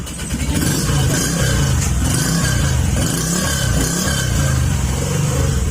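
A Honda Click 125 scooter engine idles and revs with a loud, raspy exhaust drone from a faulty exhaust, close by and continuous throughout.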